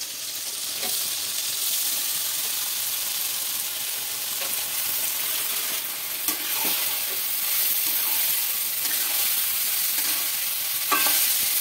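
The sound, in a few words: Gobindobhog rice stirred in oil left from frying potol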